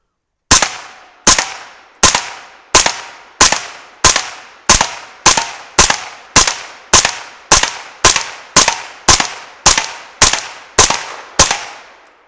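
A suppressed 300 BLK rifle loaded with powder-coated bullets fires about sixteen evenly spaced shots at steel plates and a propane tank. Each sharp crack decays quickly, in a steady, loud rhythm with no talking.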